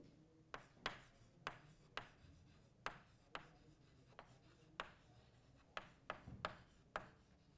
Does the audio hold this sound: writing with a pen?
yes